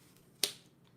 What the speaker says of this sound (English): All I need to do is snap my fingers.